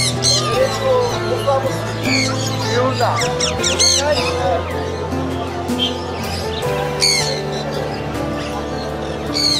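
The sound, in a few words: many caged birds chirping at Mirpur bird market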